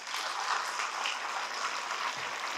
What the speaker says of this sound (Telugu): Give her a big clap.